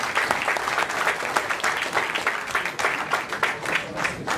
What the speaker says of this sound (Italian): sì, applauso